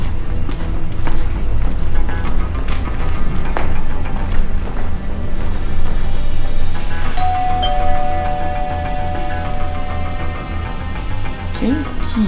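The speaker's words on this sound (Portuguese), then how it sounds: "Ó a campainha!" A household doorbell chimes in a domestic scene, the ding-dong tone ringing out clearly amid ongoing background sound and movement.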